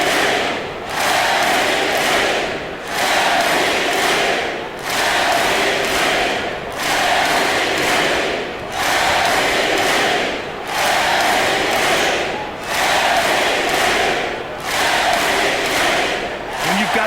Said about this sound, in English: you really can't discount the impact of this crowd here